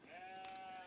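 A sheep bleats once in Age of Empires IV. The call is short, clear and wavering, with no other sounds around it.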